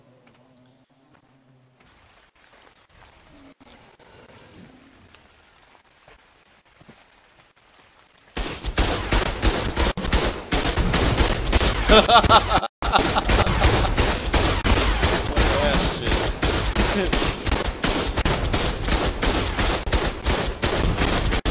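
Cannon fire in the video game ARK with the Infinity mod, a dense, loud barrage of booming blasts that erupts suddenly after quiet and continues rapidly, after a brief line of speech.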